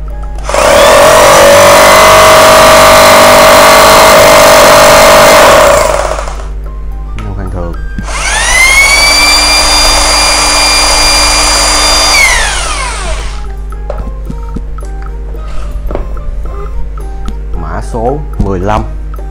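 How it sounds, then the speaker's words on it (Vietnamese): A 220V Bosch three-function hammer drill in concrete drilling mode runs in two loud, steady bursts, each spinning down, followed by clicks and handling noises. "chỉ có chức năng khoan bê tông này nè"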